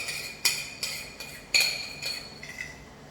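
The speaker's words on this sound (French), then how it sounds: "On mélange, on mélange, on mélange." Utensils clink against a bowl while a vegan composed salad with seaweed is tossed, a series of bright metallic taps and scrapes, close and fairly quiet with no talking.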